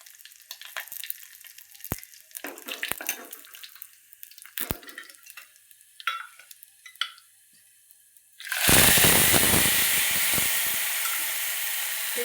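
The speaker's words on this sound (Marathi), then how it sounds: "कढीपत्ता, चांगला असा तडका बसला पाहिजे बघा," Curry leaves dropped into hot oil for a tempering burst into a loud, sustained crackling sizzle that starts abruptly and stays steady, following quieter scattered kitchen clinks and pops.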